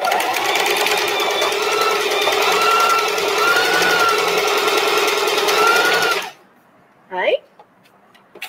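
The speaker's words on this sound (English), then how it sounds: "So now I finish sewing." A sewing machine stitches fabric in one long, steady run for about six seconds, loud and close, then stops abruptly, followed by a short squeak and near silence.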